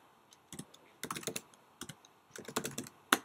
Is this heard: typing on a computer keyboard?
yes